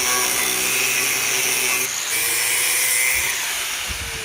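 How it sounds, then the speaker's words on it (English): An angle grinder cuts a stainless steel piece with a loud, continuous high whine that stays steady and close throughout, with a slight change in pitch partway through. "I'm just gonna trace this and then cut this out with a grinder"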